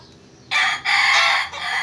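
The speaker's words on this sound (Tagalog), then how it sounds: "Napakaganda po ng manok na to." A rooster crows loudly and close, one long harsh crow in three drawn-out segments.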